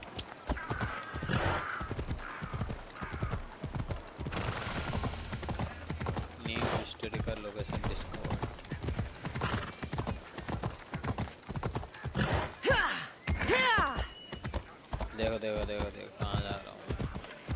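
Hooves clip-clop steadily through a running horse in a video game, with a brief whinny mixed in, while someone talks excitedly over nearly the whole stretch.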